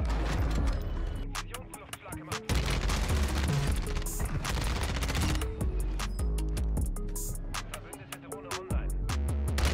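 ISO 45 submachine gun fire in Call of Duty, with rapid bursts of loud automatic shots in quick rhythmic volleys that pause briefly now and then amid the game's clatter.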